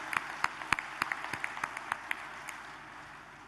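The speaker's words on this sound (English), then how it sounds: "I think they deserve a huge round of applause for that." An audience at a factory opening ceremony claps in scattered, sparse applause, a few distinct hand claps at moderate distance that thin out and fade within a few seconds.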